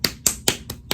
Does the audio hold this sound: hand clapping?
yes